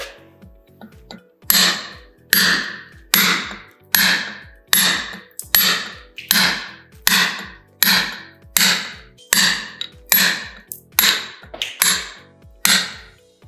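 A hammer striking a point chisel to carve stone by hand, sharp metallic knocks repeating at a steady pace of roughly one per second, loud and close, with no talk.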